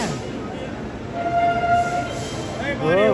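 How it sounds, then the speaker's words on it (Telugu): An Indian Railways train hauled by a WAP-7 electric locomotive rolls by at a station, a steady close rumble of wheels with a sustained horn-like tone in the middle and squealing near the end. "ఇటు సైడ్ నుంచి ఒక ట్రైన్ అయితే వస్తుంది, వ్యాప్ 7 లోకోమోటివ్"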